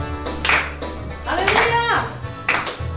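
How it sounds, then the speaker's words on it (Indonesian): Children clapping hands along to a worship song, bursts of claps mixed in with loud singing voices. "Mari kita bertepuk tangan semuanya."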